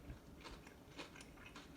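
Someone bites into a crispy, crunchy deep-fried pork chop, giving faint, close crackling crunches in quick irregular bursts of chewing, with no talking.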